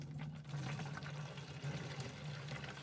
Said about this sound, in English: what I'm going to do is pour this into our watering can